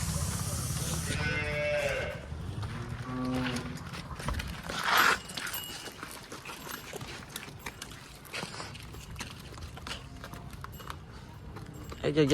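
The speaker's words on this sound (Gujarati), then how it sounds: "બધી ગાયો જો દરવાજે આવીને ઊભી રહી ગઈ છે" Cows gathered at a farm gate, with several deep moos early on and a steady shuffle of hooves and movement after, while a person talks over the herd.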